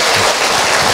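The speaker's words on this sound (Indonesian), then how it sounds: "Tepuk tangan buat anaknya ibu." Audience clapping in a hall during a motivational talk, a brief dense burst of applause filling the moment with no speech over it.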